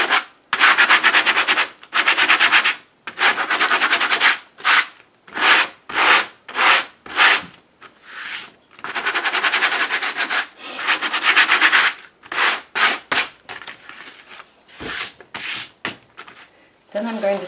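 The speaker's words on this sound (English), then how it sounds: "I'm going to take my sanding block and just knock the tops off this." Repeated bursts of dry, gritty rubbing as a sanding block is pushed back and forth over wood on an altered book page, strokes separated by short pauses, close and fairly loud.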